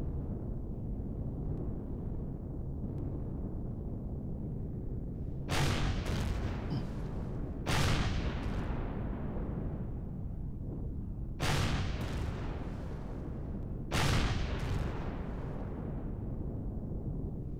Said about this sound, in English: Those homing missiles do a lot of damage.